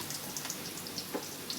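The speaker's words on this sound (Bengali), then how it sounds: "মশলাটা আর কি ভালো করে এখন যদি এই তেলের ভিতরে মশলা ছেড়ে দিই" Spices dropped into hot oil with onion, a soft continuous sizzle and crackle with small pops, fairly quiet and alone.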